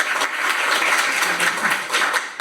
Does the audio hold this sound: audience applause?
yes